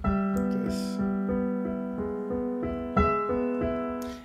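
Solo piano plays the Adagio of Beethoven's Moonlight Sonata, soft steady triplet arpeggios over sustained bass notes, close and unaccompanied.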